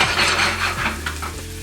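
Cayenne peppers sizzle and crackle in a hot pan with paprika while a spoon stirs them, scraping steadily and close up for a short burst with no talking.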